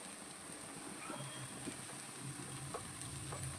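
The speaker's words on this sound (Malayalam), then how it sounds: "1 ടീസ്പൂൺ തേങ്ങ നല്ലപോലെ ഇളക്കി കൊടുക്കാം" Spatula stirring grated coconut into cooking egg and banana in a pan, a soft scraping and light sizzle running steadily, with faint knocks against the pan.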